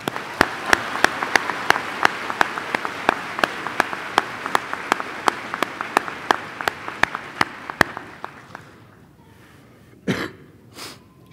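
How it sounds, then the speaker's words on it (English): Graduation audience at a high school ceremony clapping for students, a series of sharp, evenly spaced claps from a few people rather than a full crowd, fading out, followed by a muffled thump and rustle, with no talking. "Let's give these students a round of applause."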